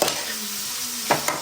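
Ginger, garlic, tomato, onion and green chili being sautéed in a pan, with a steady sizzle and a couple of quick scraping stirs near the end.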